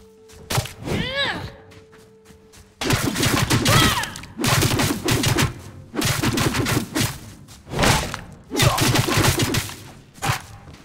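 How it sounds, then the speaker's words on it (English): Gunfire in the Soulmask survival game at a barbarian fort, coming as repeated loud bursts of shots separated by short pauses, with a brief quieter stretch at the start. "Who's shooting me?"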